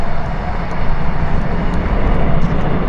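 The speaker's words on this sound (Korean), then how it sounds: "기차 가는 소리." A train passes nearby during an outdoor walk, producing a loud, steady broadband rumble and roar that fills the whole stretch without pause or voices.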